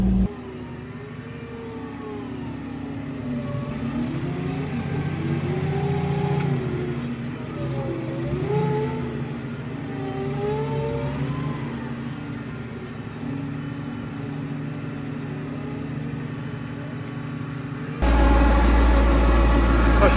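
A tractor stuck in soft ground is towed out, its engine droning steadily with rising and falling revs throughout, then a sudden louder, harsher burst of noise near the end.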